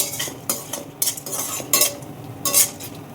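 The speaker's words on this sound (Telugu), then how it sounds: "జీలకర్ర కూడా వేస్తే ఇలా మనకి మంచి బంగారు రంగు వచ్చేంత వరకు మాడిపోకుండా చూసుకుని వేయించుకోవాలి" Cumin seeds frying in a pan until golden, a steady sizzle punctuated by a few sharp scraping stirs of a utensil against the metal, close up with no voices.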